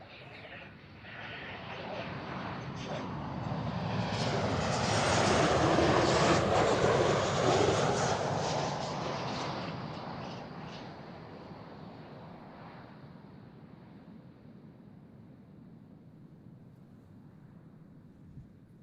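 Royal Jordanian airliner engines roaring past at Amsterdam Schiphol Airport, a broad jet rumble that swells to a loud peak and slowly fades into distant roar, with light wind noise and a voice speaking over it.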